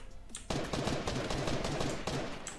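Rapid gunfire in the video game Fortnite, a dense burst of shots that starts abruptly and runs steadily to the end, loud and close with a faint voice in the background.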